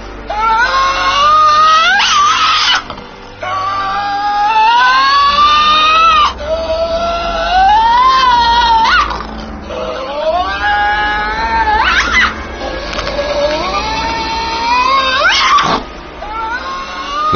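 A Tasmanian devil screams while defending food, letting out loud, harsh, wavering shrieks and growls in repeated bursts close by.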